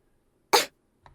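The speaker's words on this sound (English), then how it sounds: "Yu coughs again, and her hand covering her mouth is smeared with blood." A character with a chronic illness in the visual novel Ever17 gives one sharp, close cough, followed by a faint, softer breathy sound.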